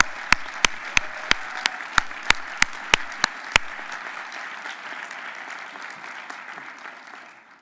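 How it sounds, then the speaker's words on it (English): A conference audience applauds chapter award winners at a general session, a steady wash of clapping throughout, with a series of evenly spaced sharp clicks in the first few seconds before the clapping slowly tapers off. "Let's give our chapter winners a round of applause."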